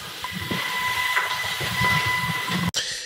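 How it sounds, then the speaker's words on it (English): A thin, high-pitched squeal rings steadily through a home garage over a low rumble, then cuts off abruptly near the end. "It's that high-pitched noise, that squeal, that just seems to resonate off of particular things."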